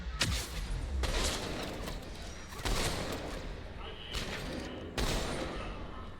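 Gunfire in the video game Mass Effect 3, loud heavy shots and bursts breaking in at intervals, each followed by a rumbling decay, with some game voices mixed in.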